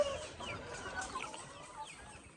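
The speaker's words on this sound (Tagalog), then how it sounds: "ito mga babae na white leghorns natin" White Leghorn hens cluck softly in a bamboo battery cage, with faint, scattered calls over a quiet background.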